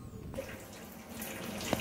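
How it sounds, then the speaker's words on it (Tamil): Tap water runs steadily into a sink outdoors during a spinach harvest, a constant hiss with no talk, ending in a small splash or clink near the end. "டேப்பில் தண்ணி க்ளோஸ் பண்ண மாட்டீங்களா?"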